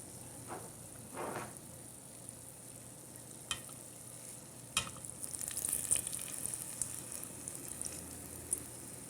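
Potato doughnuts deep-fry in a fryer basket, a faint continuous sizzle with soft crackles and a few scraping clinks of the basket, growing a bit busier partway through.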